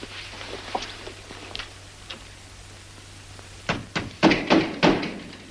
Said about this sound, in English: I'm going to pound on this door